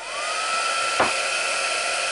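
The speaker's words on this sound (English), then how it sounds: "heat gun." A heat gun blows hot air over embossing powder on a card, a steady loud whooshing hum with a faint whine and a brief bump midway.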